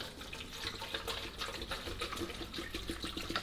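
Water poured from a bottle into a shaker bottle, a steady close splashing, gurgling stream that runs continuously without a break and with no talking.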